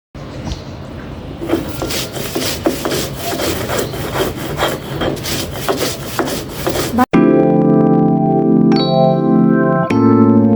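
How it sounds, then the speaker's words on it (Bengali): Chanda fish is ground by hand on a stone grinding slab, making loud, rhythmic rasping strokes that repeat steadily for about seven seconds before cutting abruptly to music. "আমি পাটাতে প্রথমেই চাদা মাছটা দিয়ে দেই, তারপর আস্তে আস্তে মাছগুলো সব বেটে নিচ্ছিলাম।"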